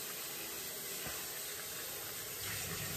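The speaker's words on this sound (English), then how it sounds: "add a little bit of water" Steady, faint hiss of water running from a tap while rinsing oxtails, continuous with no talking, a small knock partway through.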